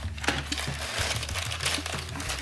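A plastic packet of Lego parts crinkles and rustles continuously during an unboxing, close and busy over a low background hum.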